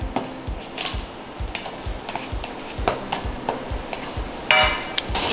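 Fried rice sizzles in a frying pan as a Chinese chef adds oil around the edge, with a steady close sizzle broken by regular scraping and tossing knocks and a brighter hiss near the end.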